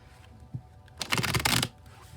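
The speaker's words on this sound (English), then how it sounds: "we'll shuffle till the deck feels ready" A deck of tarot cards being shuffled, a brief soft tap followed by a dense, rapid riffle of cards lasting about three-quarters of a second, fairly close and alone.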